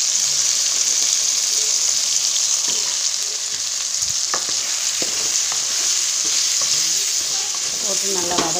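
Sliced onions and shrimp sauté in a pan, giving a loud, steady sizzle throughout with scattered clicks and scrapes from stirring; no one speaks.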